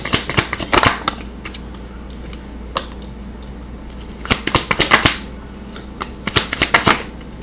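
Tarot cards riffle and snap in quick bursts of crisp shuffling, then pause and resume, with single cards drawn and laid down in close, fairly loud clicks.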